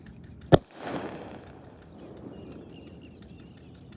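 A single sharp firecracker bang cracks out during Diwali, followed by a short rumbling echo that fades into quiet outdoor ambience.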